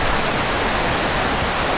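A waterfall roars through the trees, a dense, steady rushing wash of water that stays even and fairly loud throughout, with no voices.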